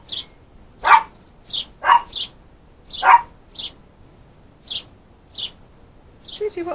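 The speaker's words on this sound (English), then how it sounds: "Why are you barking so much?" A dog barks repeatedly outdoors by a house deck, a string of sharp, fairly close barks at an irregular rhythm, with a few softer yips in between and some birdsong faintly in the background.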